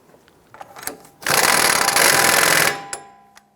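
An impact gun snugging the axle nut on a 2001-2007 Ford Escape front wheel hub, a single loud, close burst of rattling hammering lasting about a second and a half, with a few light tool clinks before and after.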